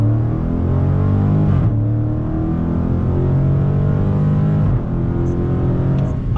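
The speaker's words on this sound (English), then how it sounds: "very fast shifts from that 8-speed automatic transmission" Dodge Challenger SRT with an 8-speed automatic pulling hard from a standstill in track mode, engine note climbing steadily then dropping sharply at two quick gear shifts before rising again, loud and close with no talk.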